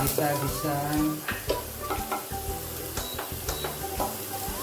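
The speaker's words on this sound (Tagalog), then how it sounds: "bawang or garlic. Ayan, gisa." Garlic and onion sautéing in a pan for catfish in coconut milk, a bright sizzle with repeated spatula scrapes and clinks, close and fairly loud, with a few tonal kitchen sounds over the frying.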